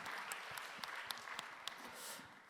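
A church congregation at a Sunday young adults' worship service applauds, a brief, faint patter of scattered claps with no talk.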